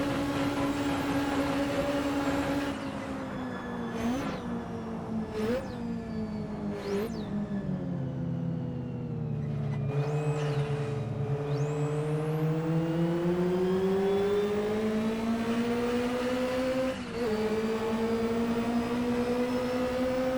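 A 1974 BMW 2002 race car in Assetto Corsa drives the 1960s Rouen circuit. Its engine drones loudly and continuously, climbing in pitch, with sharp upshifts and a dip through a slower stretch before revving back up.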